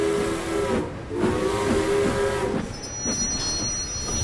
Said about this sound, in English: The three engines tooted and hooted with happiness.